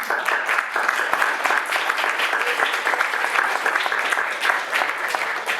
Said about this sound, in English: they get some round of applause for them